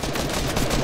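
Video game gunfire, a dense continuous burst of rapid shots at steady loudness throughout, close and unbroken, with no talking.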